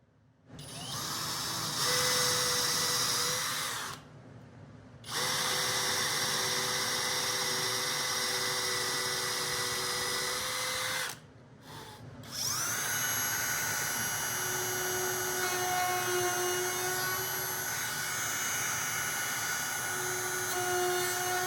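Power drill boring dog holes into a workbench top, a loud sustained whine that runs for long stretches, briefly stops twice, then resumes with shifting pitch.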